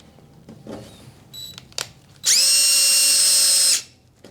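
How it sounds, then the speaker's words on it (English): A power drill whirs steadily for about a second and a half as it drives screws to fasten the adapter of a Hauslane UC-B018 under-cabinet range hood, loud and close, following a few faint clicks and handling taps. "We're going to insert the screws to fasten it securely."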